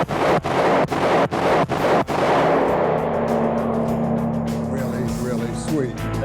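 Five sharp 9mm single-action revolver shots ring out at a steady outdoor pace over about two seconds, each one loud and close, followed by a lingering rumble and a few seconds of quieter background noise.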